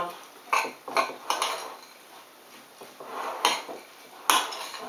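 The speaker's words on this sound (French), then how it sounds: "et je mélange" A spoon stirring sprouted pink lentil salad with chopped shallot in a bowl, giving soft scraping and several sharp clinks of utensil against the dish, close and fairly quiet.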